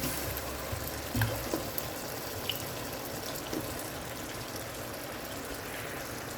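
Potato pieces go into a hot pan with spiced bottle gourd greens, raising a steady, even sizzle with a soft thump of food landing early on.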